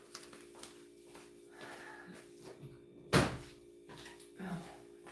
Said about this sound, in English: And I'm going to shut this door.